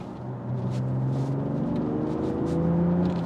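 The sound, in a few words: BMW straight-six engine in sport mode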